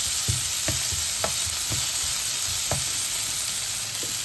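Chillies sizzle and fry in a pan for a Sri Lankan banana blossom curry, with a steady hiss and irregular stirring scrapes, close and continuous.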